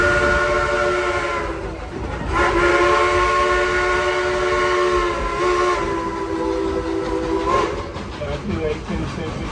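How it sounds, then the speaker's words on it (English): A coal-fired 2-8-2 steam locomotive sounds a long, loud multi-tone whistle in several blasts, over the rumble of the engine nearby. "it is a genuine coal-fired steam driven type 282 locomotive"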